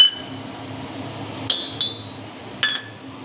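Chopped onion, tomato and coriander go one by one into a cooking pot, giving three bright clinks and clanks of metal and glass, with the middle pair close together, over a quiet room hum.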